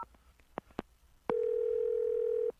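A telephone receiver picks up as a call is placed to a cell phone number: a few soft clicks and knocks, then a loud, steady, unbroken tone held for about a second.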